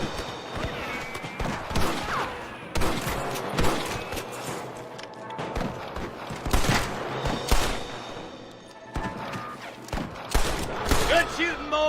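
Gunfire in Red Dead Redemption on Xbox 360 during a town shootout in Armadillo: repeated bursts of shots and clattering impacts over roughly twelve seconds, mixed with shouted voices.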